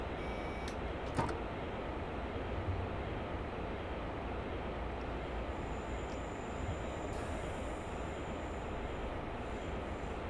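A steady, loud train rumble from Train Simulator 2021 on the Wiener Neustadt to Graz route runs throughout with a constant mechanical drone, a couple of brief clicks near the start and no talking.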